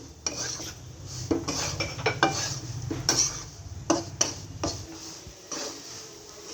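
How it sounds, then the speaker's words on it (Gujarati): Rice flour being roasted in a pan is stirred with a spoon, giving irregular scraping and clinking metal knocks against the pan at close range, with faint background hum and no speech. "તેને આપણે થોડીક વાર લગી શેકતા રહેવાનું છે।"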